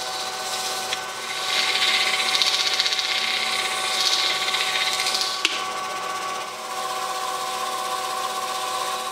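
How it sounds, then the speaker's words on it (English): Sandpaper works over a piece of rose micarta with a continuous, raspy hiss that swells for a few seconds, dips, and then carries on steadily, close up and without talk. "We can switch over to sandpaper."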